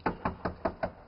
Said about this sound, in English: and more knocking.